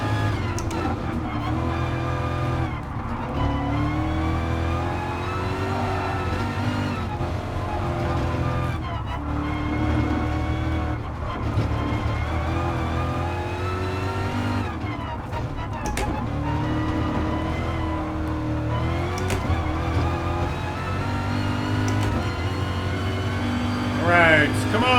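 A Corvette race car in Gran Turismo Sport roars continuously with shifting revs and braking on a track, while a player talks over the game sound.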